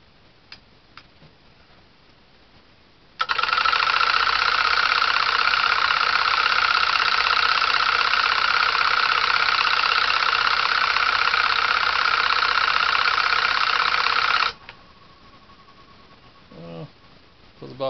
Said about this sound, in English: About a 300 watt motor,